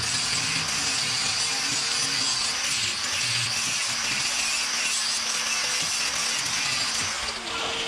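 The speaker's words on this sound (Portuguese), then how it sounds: "Então já vamos dar uma arredondada aqui com a lixadeira aqui já." A power sander grinds the corners of a sheet-metal sliding gate round, a continuous harsh bright abrasive whine holding steady and loud throughout with no talk.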